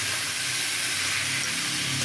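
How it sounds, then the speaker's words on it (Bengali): Spinach hisses and sizzles in a hot pan as it is stirred, a dense, continuous steamy hiss heard close up with no talk. "পালং শাকটা দিয়ে একটু নাড়াচাড়া করে"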